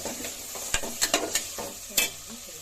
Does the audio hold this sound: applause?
no